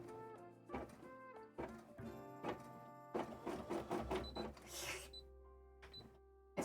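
A sewing machine stitches on a cosplay costume while the bobbin thread runs low, running in short bursts with brief pauses between stretches of sewing, close and fairly loud over tonal background sounds.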